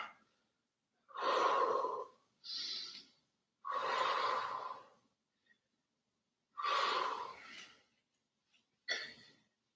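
Deep breathing during a yoga cool-down stretch: four long, close, audible exhales through the mouth, separated by quieter inhales and short pauses.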